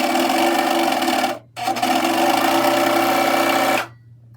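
A sewing machine stitching the shoulder seams of a T-shirt runs in a loud, steady whir, stops briefly, then runs again for a couple of seconds before cutting off into quiet.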